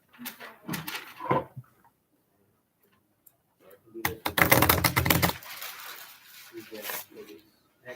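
Stiff playing cards are handled and flicked close up, making crisp, dry clicking and riffling bursts in two clusters with a quiet pause between them.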